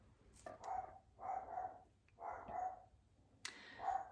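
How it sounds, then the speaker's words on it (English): A dog barks indoors in a short series of four separate woofs, moderately close but not loud, with no talking. "Sorry, my dog."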